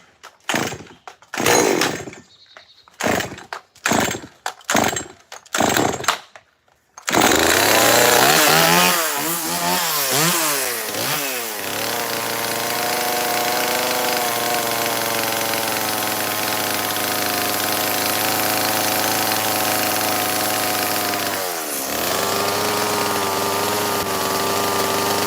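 A Neotech chainsaw, sold as an MS-180 equivalent, revs in several short loud bursts, then runs steadily at high throttle as it chops through frozen shark and walleye, with one brief dip in the engine note near the end.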